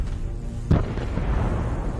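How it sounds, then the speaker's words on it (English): An artillery strike hits an armored vehicle with one sharp, heavy blast, followed by a low rumble that trails off over steady background noise. "This gave the artillery time to take aim and destroy the armored vehicle."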